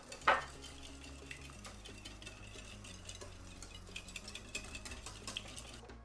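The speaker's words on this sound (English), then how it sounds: "Beat the 2 egg yolks before whisking in the chocolate." Egg yolks and chocolate are whisked in a bowl, giving soft, quick clicks and scrapes of the whisk against the bowl at a quiet, close level, with no talk.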